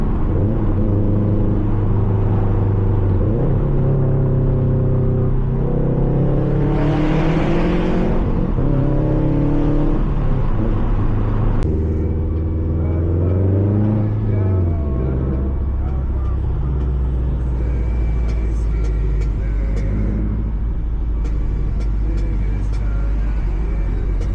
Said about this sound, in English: We got the Tomei exhaust, Titanium.